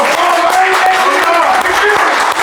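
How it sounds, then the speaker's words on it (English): Audience clapping and cheering at a hip-hop interview show, a dense wash of applause with some whistles, loud and close, under a voice speaking over it. "Everybody start clapping right now."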